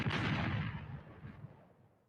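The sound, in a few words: bomb explosion sound effect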